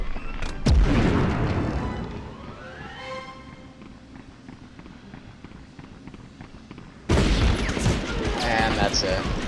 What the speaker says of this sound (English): I hear a nade.